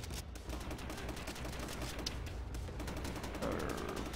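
Rifle gunfire in the Call of Duty: World at War video game rattles in a dense, continuous stream of rapid shots. The volley is fairly faint and steady, with a slightly louder burst near the end.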